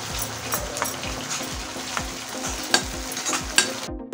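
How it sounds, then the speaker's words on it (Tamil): Chicken pieces coated in Schezwan and soy sauce are stirred over a high flame. Rhythmic, repeated spatula scrapes ride over a constant close sizzle, and no one speaks. "இது எல்லாம் சேர்த்து ஹை ஃப்ளேம்லேயே நல்லா கிளறுங்க."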